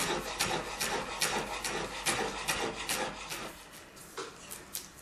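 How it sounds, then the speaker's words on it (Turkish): A knife finely chops parsley on a board in a home kitchen. The strokes are fast, steady and close, a rhythmic scraping tap that keeps going the whole time and slows slightly at the end. "Maydanozu çok ince kıyalım."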